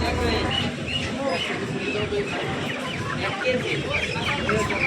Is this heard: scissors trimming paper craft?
no